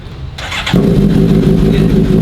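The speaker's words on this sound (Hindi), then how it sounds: "बिलीव मी बहुत ही लाउड बाइक है, बहुत ज़बरदस्त लाउड।" A motorcycle fitted with an aftermarket exhaust fires up close and loud, the engine catching after a brief crank and settling into a heavy, throbbing rumble with no talk over it.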